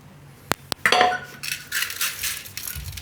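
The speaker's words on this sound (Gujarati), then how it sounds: "હવે એને કુકરમાં લઈ લઉં." Washed whole masoor lentils are tipped into a pressure cooker, opening with two sharp metallic clinks followed by a soft, scattering rattle and rustle of grains pouring into the metal pot, close and fairly loud.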